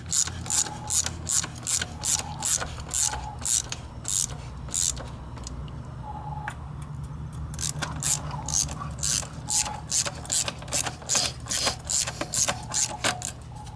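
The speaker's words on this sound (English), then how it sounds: "Snug up this bolt and then the bolt down here." A ratchet clicks in quick, regular strokes while tightening the muffler bolts on a scooter, pausing briefly between runs, close and loud with no talk.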